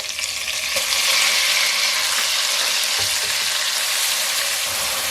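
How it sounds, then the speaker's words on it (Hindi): Onions frying in a pan on top of ginger garlic paste, for a mutton kaleji masala, give a steady, loud, close sizzle with faint crackles throughout. "प्याज को भी अच्छी तरह से फ्राई कर लेंगे।"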